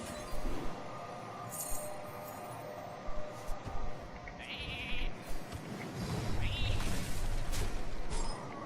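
A sheep bleat from the polymorph spell in the Hearthstone card game, a few short bleats rising over a busy, continuous bed of game music and effects, with some clinking chimes.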